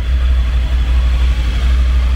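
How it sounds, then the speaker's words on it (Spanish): A Triumph Tiger 900 Rally Pro three-cylinder motorcycle engine runs at a steady idle, with a deep, loud, continuous rumble and a faint high whine on top, no voices. "es como suena la Triumph Tiger 900 Rally Pro"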